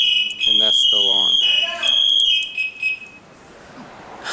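A firefighter's PASS device alarm in a fire house gives a loud, high-pitched electronic whistle with steady tones, sounding beneath a man's nearby speech before cutting out and leaving quiet room noise.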